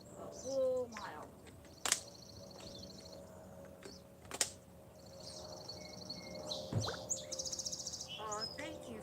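A song sparrow sings outdoors in a spring yard in short, bright trilling phrases of varied notes, moderately distant. A few sharp clicks and faint background noise come between the phrases.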